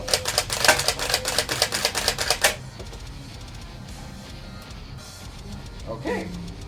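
Nerf N-Strike Barricade RV-10 blaster firing foam darts in a quick burst of about ten sharp mechanical clacks, close and loud, followed by quiet handling and a brief voice.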